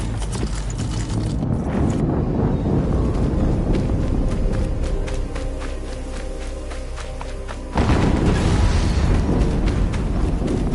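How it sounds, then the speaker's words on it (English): Explosions in the action game Horizon Zero Dawn: a loud, dense rumbling blast that fills the clip, dipping briefly before a second heavy burst erupts near the end, with no talk over it. "Another explosion."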